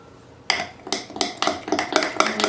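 Ingredients mixed in a bowl for sourdough croissant dough, a spoon or utensil striking the bowl in a steady run of sharp, close clinks roughly every few tenths of a second.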